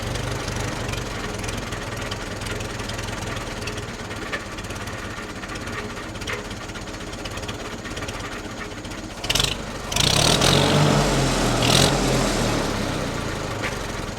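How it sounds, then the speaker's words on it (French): An old vintage engine at a farm and car heritage museum idles after a hand-crank start, a steady low rhythmic chugging that goes on, with a brief louder burst and some rough knocking near the end. "on prend la manivelle et il démarre au quart de tour. Écoutez-moi ce ralenti."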